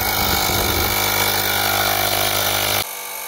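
A portable rechargeable air compressor inflating a car's rear tire toward 47 PSI runs loud and close with a harsh rattling buzz, steadying after a second, then drops to a quieter hum near the end.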